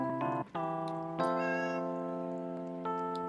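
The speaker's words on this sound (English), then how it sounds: "I just hear a cat sound?" A sampled cartoon cat meows in a gacha animation: a short high meow, a brief pause, then a long drawn-out, tonal meow that fades slowly, clear and close with no talking.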